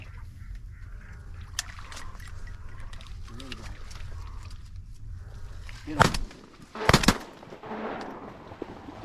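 Shotgun blasts ring out during a duck hunt in flooded corn, two sharp loud reports close together near the end, following a stretch of low rumbling background noise.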